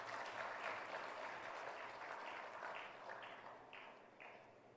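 Audience applause at a citizen app launch event, a dense, steady wash of many hands clapping throughout, moderately distant and fading slightly toward the end.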